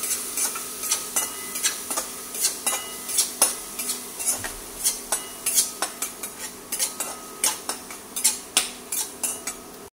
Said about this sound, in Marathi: आलं, लसूण, आलं, कोथिंबीर आणि मिरचीची पेस्ट आणि हलवून घेऊया। चांगलं भाजून घेऊया चांगलं।